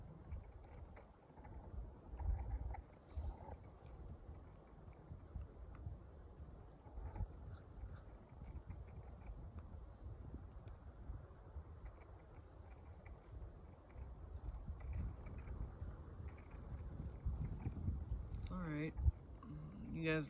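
Wind gusting outdoors at a hike-in lake, a steady low rumble of buffeting against the microphone that swells and eases throughout, with faint background sounds and no clear talk.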